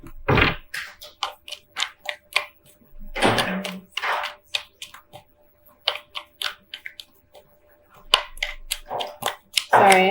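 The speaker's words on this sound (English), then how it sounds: "Sorry, I have a toddler playing with blocks." A toddler bangs toy blocks, giving scattered sharp knocks and thuds, some louder and clustered, sounding near and intermittent over about ten seconds with no speech.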